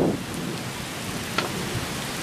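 Rain falls during a lightning storm, a steady broadband hiss of drops close to the microphone with a faint low rumble underneath and a few sharp drip ticks, no voices.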